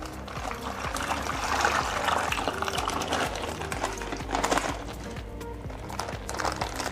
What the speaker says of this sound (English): Okay, and just pour them out into the bucket